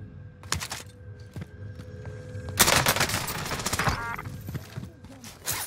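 A hard-recoiling gun fires in Call of Duty: Warzone: scattered single shots, then a dense rapid burst of automatic fire, with loud, close reports and more shots trailing off.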